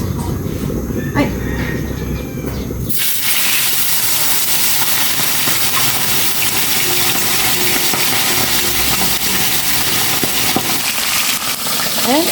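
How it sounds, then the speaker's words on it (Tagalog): Milkfish dropped into a pan of smoking-hot oil, a sudden loud, dense sizzle and hiss that starts abruptly and roars on steadily, very close. "Magprito na po ako ng bulis na bangus."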